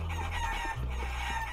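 Game chickens clucking and crowing in the Mexican-themed platformer Guacamelee, a steady, busy barnyard loop with a low musical hum underneath, no talking.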